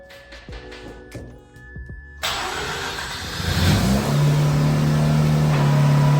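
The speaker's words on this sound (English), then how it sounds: "This is what an RX8 sounds like with a stock catback and a resonated catless" A Mazda RX8 rotary engine with a stock catback and resonated catless mid-pipe cranks and catches, then settles into a steady, fairly quiet idle with a low exhaust drone, close by.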